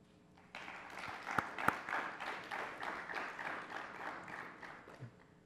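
An audience applauds award winners at a virtual convocation and institute awards event, a faint, even patter of clapping that rises and carries on steadily, with a couple of sharper isolated claps near the start.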